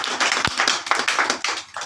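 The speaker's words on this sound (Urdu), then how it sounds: "ہیلیلویا، تالیاں اس پاک کلام کے لیے" Church congregation claps in a short burst, with sharp, fairly close individual hand claps in an uneven rhythm over about two seconds.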